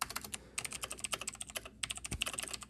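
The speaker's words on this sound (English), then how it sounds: "I'm just typing it out to see if it'll fit here." Rapid typing on a computer keyboard, dense irregular key clicks with a few short pauses, close and fairly quiet, no talking over it.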